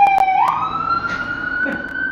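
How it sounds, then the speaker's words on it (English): An ambulance siren wails with a steady rising and falling tone as it passes, loud and close throughout with no voices. "It's an ambulance."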